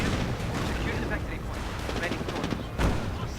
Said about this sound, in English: Cannons are shot.